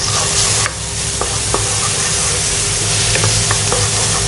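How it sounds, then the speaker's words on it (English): Ginger garlic paste fries with translucent onions in a pan, a loud continuous sizzle broken by a few sharp clinks of a spoon stirring against the pan. "Fry this really well"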